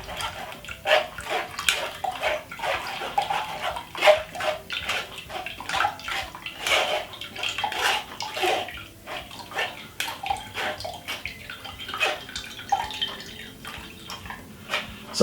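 Summer fruit juice with ginger poured through a strainer, giving a steady watery splashing and trickling with irregular drips and surges, close and moderately quiet.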